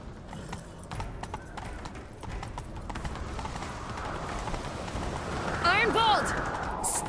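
Horse hooves clip-clop at a gallop in The Witcher 3 during a chase, a steady rhythmic pounding under game music and ambience, with a horse whinny near the end.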